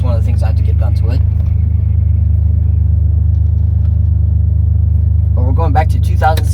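A 1990 Eagle Premier with a 3-liter overhead cam V6 and port fuel injection cruises along, its engine and road noise forming a loud, steady low hum as someone talks over it.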